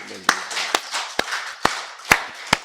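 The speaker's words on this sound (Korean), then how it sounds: "먼저 하나님께 박수로 영광 드리겠습니다" A church congregation claps in unison during a Korean Sunday service, sharp crisp claps landing in a steady rhythm about twice a second, with a brief voice underneath at the start.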